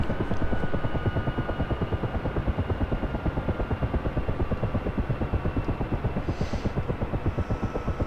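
Mi-8 Hip helicopter rotors in the DCS World flight simulator, a steady, loud rhythmic whump of blades beating continuously over a low engine drone, with no talk.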